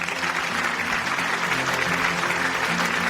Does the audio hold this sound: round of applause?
yes